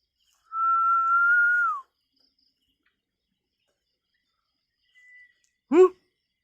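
Human whistling answering back during a night ghost-hunting outing: one long, steady whistled tone nearby, then after a few seconds of silence a faint short note and a brief sharp warbling burst.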